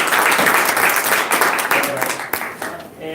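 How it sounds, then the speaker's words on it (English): A large audience at a Denver's Road Home Givers Summit gathering breaks into dense, sustained applause, the clapping staying steady and loud before tapering slightly near the end. "let's give these guys one more round of applause"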